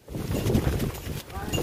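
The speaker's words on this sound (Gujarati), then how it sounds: "પાછો ફૂલ પવન ચાલુ થઈ ગયો વરી." Strong wind gusts buffet the microphone in a steady, loud roar on the Girnar mountain steps near Junagadh, with a brief dip partway through.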